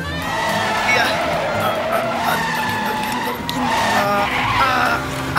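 A braking skid sound effect in a Telugu comedy short: tires screech loudly and continuously for several seconds, rising and falling in pitch with no break.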